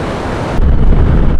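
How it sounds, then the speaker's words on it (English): Water of the Victoria Nile forced through a narrow rocky gap at the falls, a loud, continuous roaring rush with wind buffeting the microphone, surging louder about halfway through. "All of the water in that big wide river you saw back at the lodge flows through this narrow opening."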